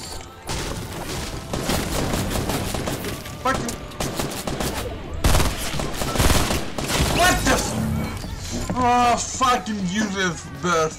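Burst-fire gunfire in a PC shooter video game comes as rapid clusters of sharp shots, loud and close, repeating throughout alongside other game noise while someone talks over it.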